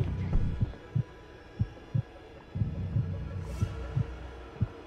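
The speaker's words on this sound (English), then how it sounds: "if you hear my heartbeat beating faster, I think that means there's an enemy nearby" In The Outlast Trials video game, a heartbeat thumps as a warning of a nearby enemy, a steady, regular low throb of about ten beats in five seconds over a faint hum, close and alone.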